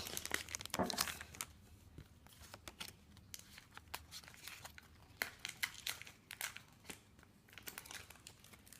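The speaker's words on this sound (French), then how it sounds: "ça va prendre un peu de temps parce que c'est chiant à ouvrir ces boosters" Pokémon Wild Blaze booster pack wrappers crinkle and rip as they are torn open by hand, a close flurry of crackling plastic at first, then scattered sharp crinkles and tears over a quiet background.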